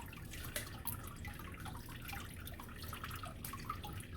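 Water dripping and splashing as leaf litter is scooped out of an aquaponics tank, soft intermittent drips and trickles close by, quiet and alone.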